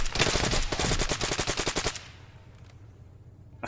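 Video game gunfire in a special-ops shooter, a rapid burst of roughly a dozen close automatic shots lasting about two seconds, then quiet background.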